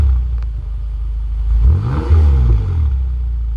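A BMW M6 Competition sports car engine revs up close, rising in a loud surge and falling back to a rumbling idle.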